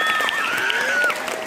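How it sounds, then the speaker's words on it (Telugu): Students in a school assembly clapping together, a dense continuous round of applause with a few voices calling over it. "క్లాప్స్ గట్టి కొట్టుండ్రా"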